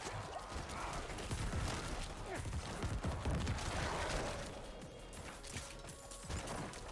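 Bone spear attacks from a Necromancer in Diablo 4, a dense barrage of crashing, shattering impacts and bursts that keeps up steadily throughout, with background game effects layered underneath.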